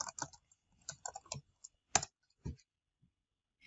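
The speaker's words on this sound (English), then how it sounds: "And Lindsay, so you are typing directly in the buttons" Quiet typing on a computer keyboard: scattered light key clicks in short bursts with one sharper tap, close and alone.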